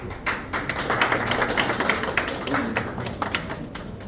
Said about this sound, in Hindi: तालियां बस दे रहे हैं जी।